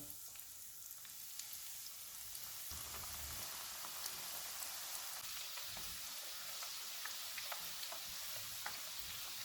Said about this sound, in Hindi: चिप्स फ्राई हो गए हैं